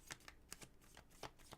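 Tarot cards being shuffled by hand: several quick, soft papery riffles in an uneven rhythm, close and quiet with no talking.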